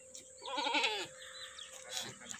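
A pink Rajanpuri goat bleats up close in one wavering, harmonic call lasting about half a second, followed by quieter farmyard rustling and faint background noise.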